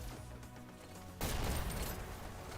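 Explosions and gunfire in the Hyper Dash VR shooter during a Dash League playoff match, a dense burst of crackling blasts erupting after a quieter lead-in and continuing loudly.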